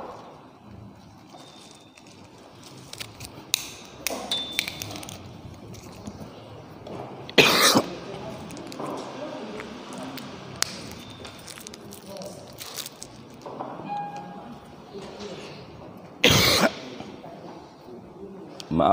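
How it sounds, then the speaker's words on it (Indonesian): Person coughing in two loud, sharp bursts, one near the middle and one toward the end, separated by quieter rustling and soft handling sounds in a room. "Maaf batuk-batuk"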